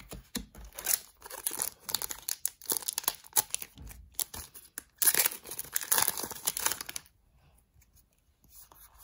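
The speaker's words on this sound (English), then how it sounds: "just enjoy the ASMR of packs being opened" Digimon booster packs being torn open and their foil crinkled up close, a busy run of tearing and crumpling rustles that stops near the end, leaving faint quiet.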